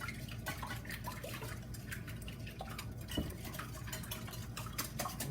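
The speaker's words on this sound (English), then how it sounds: "Mix the eggs up just a little" Eggs being whisked in a bowl for an old-school pecan pie, a steady clinking and sloshing of utensil against bowl with quick irregular taps throughout, close and moderately loud with no talking.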